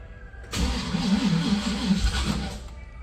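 A hot car engine at almost 190 degrees cranks briefly and catches, settling into a steady, slightly uneven idle close by, with no throttle blips.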